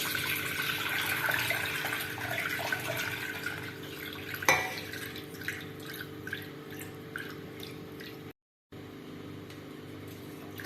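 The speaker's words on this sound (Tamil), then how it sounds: "அதை நல்லா பரப்பி விட்டுன்ட்டு இது நிறைய தண்ணி விட்டு நல்லா கழுவிக்கணும்" Water runs and drips over flattened rice (poha) spread in a strainer, rinsed before making lemon poha; a steady kitchen trickle with scattered drips and one sharp clink midway, no talk.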